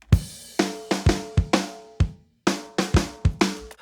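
A Groove Agent drum pattern playing in Cubase, its snare doubling up in an uneven, limping rhythm: about a dozen punchy drum hits with ringing decays and a brief gap midway, close and alone.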